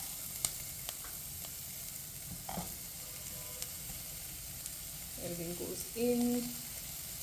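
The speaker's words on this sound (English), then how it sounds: "Again, we'll saute it for about a minute, cover and cook for about 3 minutes." Carrots sauté in a pan for a quick vegan carrot soup, giving a soft, steady sizzle with a few light stirring scrapes while a voice speaks briefly over it.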